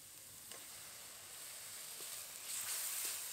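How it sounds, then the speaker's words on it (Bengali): Onion paste with ginger, garlic and green chili paste frying in hot oil, giving a steady close sizzle that swells louder near the end, with a few faint stirring taps. "আবারও কিছুক্ষণ ভেজে নেব।"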